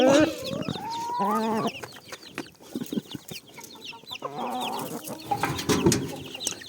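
Chickens and roosters clucking and squawking close by, a busy overlapping chorus of calls with short bursts and occasional louder cries.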